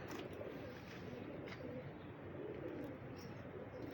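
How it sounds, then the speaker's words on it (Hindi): Golden pigeons cooing in a pair kept by a fancier, soft low coos repeating over a faint background murmur, fairly quiet and close. "माशाल्लाह जी, पूरे गोल्डन कबूतर हैं जी।"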